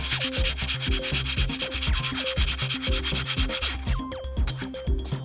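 Sanding bulges off a polycarbonate bending brake part, a steady rhythmic back-and-forth rasp of abrasive on plastic, close and loud, with strokes briefly breaking up near the end.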